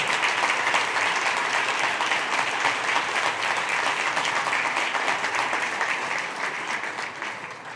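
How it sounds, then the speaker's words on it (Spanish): Sustained audience applause at a conference event fills the space, steady and dense with many hands clapping, gradually tapering slightly toward the end. "Denle un aplauso, ¿verdad que sí?"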